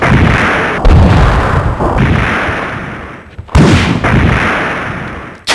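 Heavy booming weapon blasts and explosions hitting zombies in the video game Resident Evil 3: Nemesis, several loud, close shots spaced a second or two apart, each trailing off into a rumbling decay.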